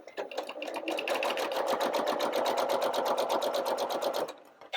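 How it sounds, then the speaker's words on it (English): A Janome 9400 sewing machine sews a pair of fabric strips in a quick, regular chatter of needle strokes. It runs steadily up close for about four seconds, then stops abruptly. "So what we're going to do is just run along this pair of strips and sew them."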